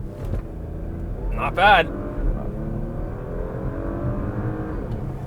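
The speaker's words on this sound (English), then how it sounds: "The new 2020 Porsche Macan S with launch control." A 2020 Porsche Macan S launching with launch control, its engine droning and rising steadily from inside the cabin beneath people talking.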